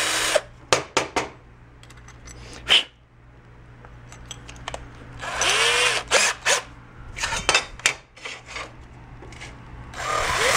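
A power drill boring a 1/4 inch hole while fitting a new seat in a 1962 Grumman Olson Kurbside step van, heard as several short close bursts of whirring and grinding separated by brief pauses.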